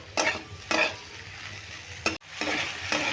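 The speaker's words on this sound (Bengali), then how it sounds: "দেখো দু মিনিট আমি এইভাবে নেড়ে নেড়ে ভেজে নিলাম" Papaya seasoned with Kashmiri chili stir-fried in a pan, with a steady sizzle broken by four or five scraping strokes of the spatula, close and fairly loud, with no voices.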